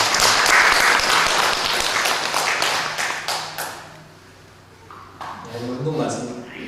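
Congregation in a church service claps loudly and steadily for several seconds, then the applause thins out and fades while a voice begins speaking.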